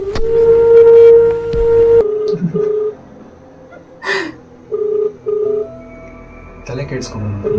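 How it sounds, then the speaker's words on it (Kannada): A phone call is placed, first with a sustained electronic tone and clicks, then a series of short ringback beeps that repeat at steady intervals. "ಇದು ಬರೀ ರಿಂಗ್ ಆಗ್ತಿದೆ"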